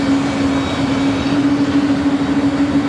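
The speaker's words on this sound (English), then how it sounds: "This flight heading to Honolulu in this 777-200." A Boeing 777-200 at Los Angeles airport makes a steady, loud engine roar with a sustained hum, constant throughout and without voices.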